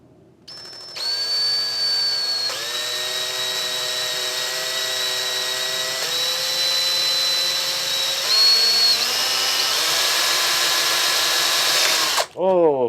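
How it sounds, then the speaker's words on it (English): A power drill bores into a part for a Sur Ron Light Bee electric dirt bike brake modification, its loud steady whine running continuously for about eleven seconds with slight pitch shifts as the bit cuts, then cutting off abruptly. "I'm going to drill it somewhere around here"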